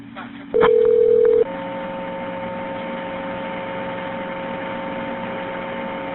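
Telephone line tones on a call placed by 911 operators to a funeral home: a short, loud steady beep, then a continuous two-pitch dial-type tone hums on without pause or ringing cadence.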